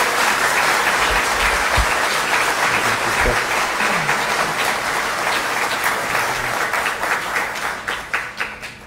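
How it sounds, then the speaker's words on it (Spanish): A church congregation at a Sunday Mass applauds their priest: loud, dense clapping from many hands that holds steady, then thins and fades toward the end. "¿Cuándo era la última vez que han dado un aplauso para este padre?"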